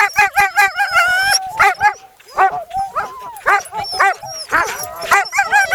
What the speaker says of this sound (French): les chiens devant.